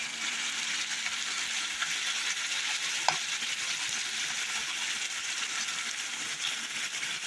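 Chicken hearts sizzle and crackle steadily in hot sunflower oil in a pan, a continuous bright frying hiss with no voices.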